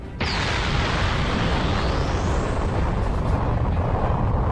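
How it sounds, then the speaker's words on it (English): A massive explosion engulfs a fighting arena in an animated Dragon Ball battle, starting abruptly as a loud, sustained roaring blast with a rising whistle, rumbling on without fading. "The entire arena disappears inside a massive explosion."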